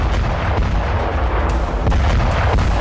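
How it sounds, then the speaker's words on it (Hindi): Dense, continuous booming like artillery fire and explosions from Russian glide bomb and missile attacks on Ukraine, loud and rumbling, with repeated heavier blasts standing out and no voices. "रूसी सेना ने यूक्रेन पर फैब बम और ओडैप ग्लाइड बम से धावा बोला।"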